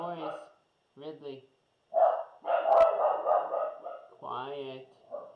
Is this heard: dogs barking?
yes